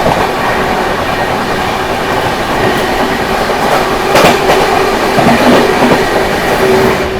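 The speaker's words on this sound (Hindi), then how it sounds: "मार दिया भाई वीवीआईपी प्रयागराज एक्सप्रेस को ओवरटेक" Loud, steady close-up roar of a 22438 Anand Vihar Terminal–Prayagraj Humsafar Express overtaking the Prayagraj Express at high speed, with rattling wheel clatter and a few brief sharper clacks partway through.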